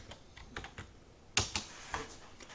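Typing on a computer keyboard produces a few quiet, separate key clicks at an uneven pace, heard alone in a quiet room.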